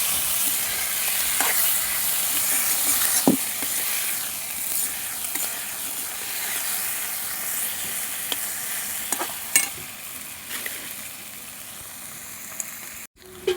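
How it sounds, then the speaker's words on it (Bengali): Small chuno fish fry lightly in hot oil, a loud continuous sizzle and hiss close up, broken now and then by sharper spatters and pops. "মাছগুলো একটু হালকাভাবে ভেজে নেব"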